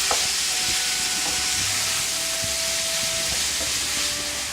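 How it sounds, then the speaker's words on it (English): Ground meat sautés with onions in a hot pan, giving a steady, close, loud sizzle with a few faint stirring scrapes and no talking. "we break up the meat in the onions, let it cook and saute with the onions really well"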